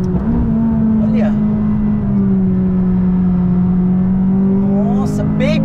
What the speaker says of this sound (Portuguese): Só escuta o motor do jeito por rapaz, o que acelera essa bichinha?